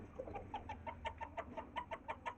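A rooster clucks in a quick, even rhythm to call his hens near a backyard coop, with short repeated notes close by and no talk.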